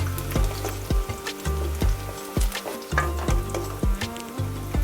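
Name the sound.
onions deep frying until crisp brown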